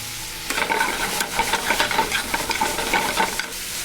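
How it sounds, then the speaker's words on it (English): Wild boar meat for fettuccine frying in a pan, a steady sizzle with rhythmic scraping and tossing strokes of a utensil, close and fairly loud, no voices. "Meat was pretty much cooked, and it'll finish cooking now"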